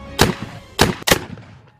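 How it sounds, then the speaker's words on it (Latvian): Three sharp, loud blasts from a farm gas cannon used to scare off wild boars, the second and third close together, each cracking out and ringing away briefly in the open air. "Citam lielsaimniekam vēl jaudīgāks trokšņu taisītājs – gāzes lielgabals."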